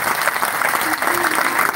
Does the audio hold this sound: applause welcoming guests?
yes